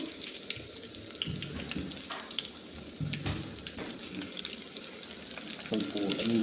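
Chopped onions sizzle steadily in a hot pan while a spoon stirs and scrapes through them, close up with continuous crackling.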